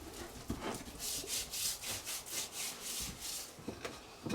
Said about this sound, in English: So you want to kind of heavily season these, rub it in.